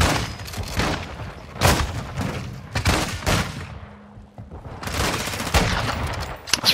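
Repeated heavy shotgun blasts in a first-person video game boom in quick succession, loud and close, with a short quieter lull midway before the firing resumes.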